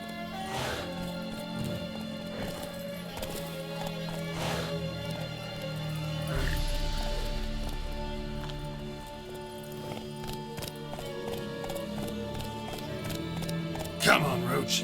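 Roach, Geralt's horse in The Witcher 3, gallops with a steady, rapid clip-clop of hooves and a brief whinny, under game music and a voice speaking to the horse.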